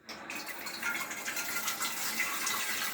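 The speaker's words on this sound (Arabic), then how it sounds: "نعبيها مية." Tap water gushes steadily into a pressure cooker being filled for cooking fava beans, a close, continuous splashing pour with no talking.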